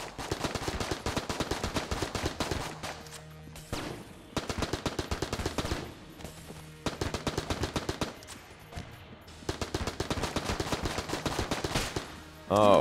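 Rapid gunfire rattles through a boss fight in the game Enter the Gungeon, with dense bursts of shots separated by short pauses. It stays loud and close throughout.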